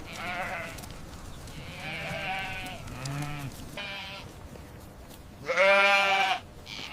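Several goats on a farm in Australia bleat one after another in a series of wavering calls, with one loud, long bleat near the end standing out close by against a quiet outdoor background.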